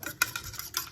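Eggs are stirred in a bowl, a utensil tapping and clinking against the side in quick, uneven strokes, close and fairly quiet.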